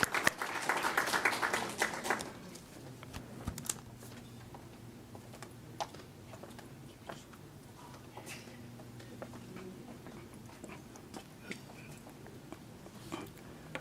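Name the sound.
applause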